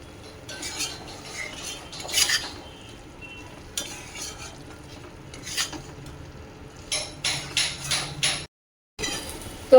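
Spiced fried potato and vegetable stems are stirred together in a pan. A low sizzle sits under repeated scraping and clanking spoon strokes against the metal, including a quick run of strokes near the end and a brief gap.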